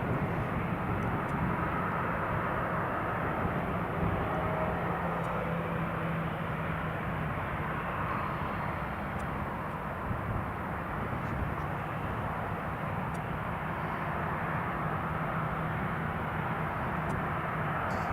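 A departing airplane at Newcastle International Airport gives off a steady, broadband jet roar that stays level and fairly close throughout, with no speech.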